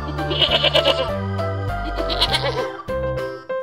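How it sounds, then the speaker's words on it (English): A goat bleats several times in quick, wavering cries, loud and close, with short pauses between the calls. "Goat."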